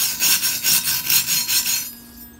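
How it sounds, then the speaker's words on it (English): A steady rhythmic rasping comes from a tool scraping flux-core welding slag off a fresh weld on salvaged material. About eight close back-and-forth strokes play alone and then stop abruptly. "Just keep scraping on that until we get most of it off."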